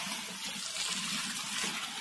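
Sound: water being poured into biryani masala

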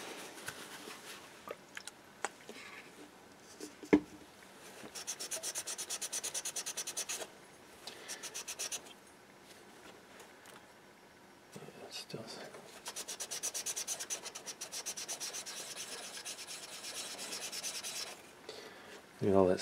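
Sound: rubbing aluminum heatsink clean with rubbing alcohol

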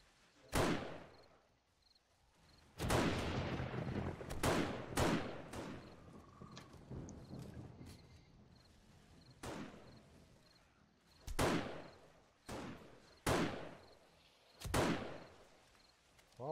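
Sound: gunshots from a gun in a video game

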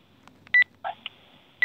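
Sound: telephone dialing tones for a conference call

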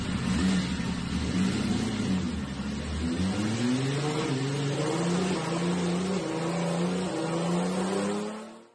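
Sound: Nissan L28 engine with prototype head first start, revving

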